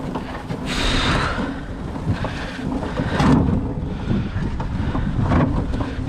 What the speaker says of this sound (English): And this wind's pushing me very, very fast